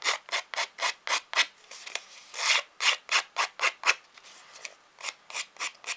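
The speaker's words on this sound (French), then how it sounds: "Ça, je vais le gratter un petit peu parce qu'il y a des petits picots là encore." Close, rhythmic scraping strokes across a glued card to remove small bumps, about twenty short rasping passes in steady succession, loud and alone with no talk.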